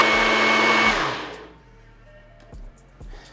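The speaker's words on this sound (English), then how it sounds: "we're going to blend this up until it's creamy and there are no chunks" A blender whirs loudly, puréeing vegan enchilada sauce until creamy, then winds down to a stop, followed by a few soft thumps and clinks.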